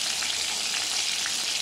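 Spice masala with tomato sizzling in a cooking pot, a continuous close, even frying hiss with faint stirring pulses.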